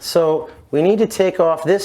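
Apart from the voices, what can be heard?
No everyday noises stand out.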